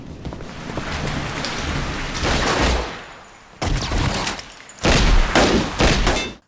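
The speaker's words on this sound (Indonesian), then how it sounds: "Hujan deras mengguyur Hong Kong." Heavy rain pours down over Hong Kong in a dense, steady roar that swells and surges at moments, loud and enveloping with no voices.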